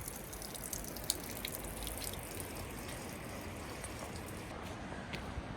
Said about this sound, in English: This is the mightiest waterfall I have ever seen.